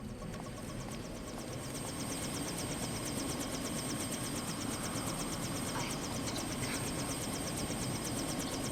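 Helicopter rotor blades thumping at a helipad in the game Deus Ex Invisible War, a steady rapid chop with a whining engine tone, continuous and fairly faint, with no voices.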